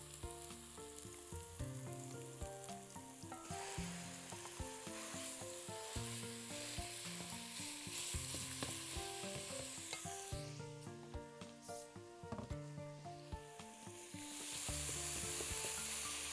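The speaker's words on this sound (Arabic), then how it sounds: "البصله ابتدت تصفر، نحط بقى اللحمه اللي عندنا." Minced meat frying with onions, garlic and spices in a pan, a continuous close sizzle with occasional stirring and scraping, no talking.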